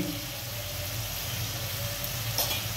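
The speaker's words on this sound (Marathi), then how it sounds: "मित्रांनो आपले टमॅटो चांगल्या प्रकारे फ्राय झाले तर आपण आता याच्यात टाकणार आहे थोडी चवीनुसार हळद" Tomatoes cook in a pan with spices for a sprouted moth bean curry, giving a soft, steady sizzle with faint stirring, close but quiet and unbroken by talk.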